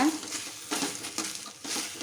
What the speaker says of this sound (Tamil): இப்போ வெண்டைக்காவை லைட்டாக வதக்கி விடுங்க.